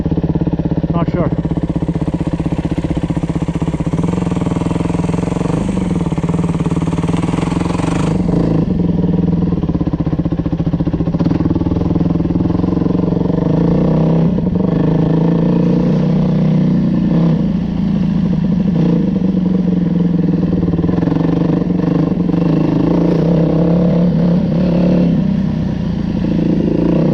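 A Yamaha dirt bike, a YZ450F or WR250F, drones loudly and steadily while riding through snow, with the engine revving and dropping throughout, close and constant, plus wind and clatter.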